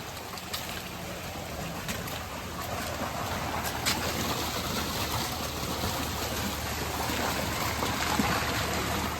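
Water from a garden fish aquarium's filter flows steadily back out into the tank, a soft, continuous trickling rush that stays even and fairly quiet throughout.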